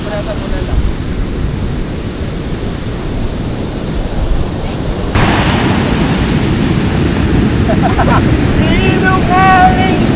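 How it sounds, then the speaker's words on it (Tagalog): High ocean waves crash and wash continuously on a beach in Zambales, a loud roar of surf and wind that swells midway, with brief voices and faint whistling near the end. "Mag-ingat po ang lahat sapagkat napakataas po ng alon."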